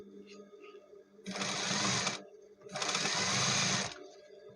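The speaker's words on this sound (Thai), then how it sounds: "อันนี้พี่รีจะเย็บริมริมไปก่อน" A sewing machine stitches along the edge of a fabric garment during elastic-waistband repair work, running in two steady bursts of about a second each with short pauses between, loud and close.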